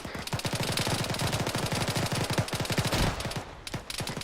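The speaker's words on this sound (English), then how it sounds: "we're taking fire from the northwest, moving that way" Rapid automatic gunfire fills a video-game squad combat fight, with dense overlapping bursts of machine-gun fire hammering loud and nearly continuous with no pauses.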